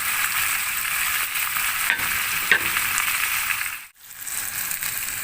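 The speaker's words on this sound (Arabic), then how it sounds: "نسيب بس كده الفراخ دقيقتين من كل ناحيه" Chicken pieces fry in a pot with spices for a Saudi red kabsa, crackling and sizzling continuously at close range. Stirring scrapes come through, then a sudden brief dip in the sound.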